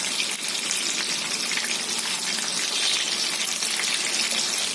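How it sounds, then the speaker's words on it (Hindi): Raw minced-meat kebabs shallow-frying in a moderate amount of hot oil in a pan, giving a steady, close, unbroken hiss of sizzling throughout. "एक पैन में तेल को गर्म कर लिया है। तेल हमने बहुत ज्यादा भी नहीं डाला और बहुत कम भी नहीं है, तो इसे हम मीडियम फ्राई करेंगे।"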